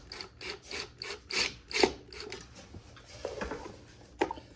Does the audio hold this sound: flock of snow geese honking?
no